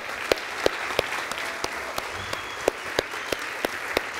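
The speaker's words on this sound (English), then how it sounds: "give them a round of applause" Audience applause from a crowd at a startup conference, steady dense clapping filling the room with a few sharper, louder claps standing out near the front.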